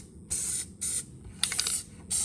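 Four short bursts of spray adhesive hiss in quick succession, close and loud, with brief pauses between them.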